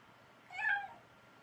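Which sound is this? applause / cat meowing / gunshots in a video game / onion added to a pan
cat meowing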